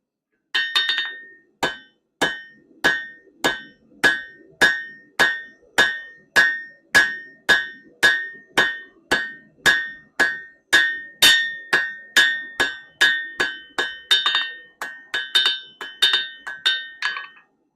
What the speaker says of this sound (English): Blacksmithing begins with just simply making a point, a tapered point. You can see I do right on the anvil, back and forth, 90-degree marks